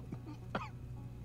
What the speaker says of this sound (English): I brought you something for that cough.